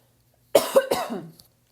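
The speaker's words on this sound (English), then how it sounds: "I got a cough." A single harsh cough, two or three quick rough bursts close up, then silence.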